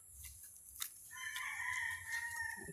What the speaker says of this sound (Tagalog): Native na manok.